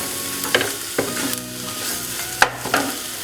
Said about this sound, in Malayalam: ഇനി ഇതൊക്കെ നമുക്ക് നന്നായിട്ട് വഴറ്റി കൊടുക്കാം.